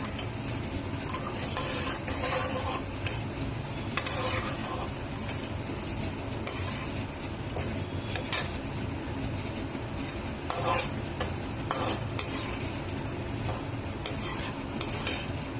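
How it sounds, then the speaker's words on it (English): Ginger and curry leaves being stirred in a pan with tempered dals for vegetable semolina upma, giving a steady close scraping and stirring with light sizzling throughout and occasional louder utensil clinks. "Keep stirring so that the flavors of both the curry leaves and also the ginger get infused along with the tempering of the dals."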